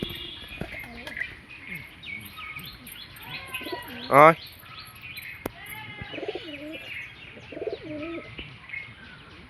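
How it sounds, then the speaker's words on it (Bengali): Pigeons coo softly and repeatedly close by at a loft as a black pigeon returns, with low murmuring calls scattered through the clip, and someone speaks over them with one sharp shout. "ওই যে পায়রাটা চলে এসেছে, ওই সে কালো পায়রা"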